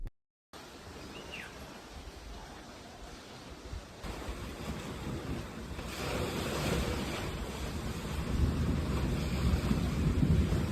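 Ocean surf at a beach resort in Unisan, Quezon, heard through an open veranda door: a steady, continuous wash of breaking waves that grows fuller and louder, with faint wind.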